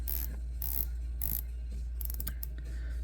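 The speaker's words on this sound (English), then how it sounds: "So 120 click bezel, so if you turn it, you are stuck there." Diver's watch bezel with 120 clicks being rotated, giving close, crisp ratcheting clicks in quick runs with short pauses between, over a steady low background hum.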